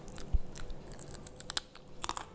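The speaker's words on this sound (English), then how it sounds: "Can you hear that? Can you hear the crunch?" Crispy green banana chips crunch and crackle as they are bitten and chewed close up, with a run of sharp, irregular snaps and no talk.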